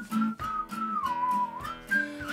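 A child whistles a short wavering tune of several breathy notes, close and fairly quiet, alone without talk.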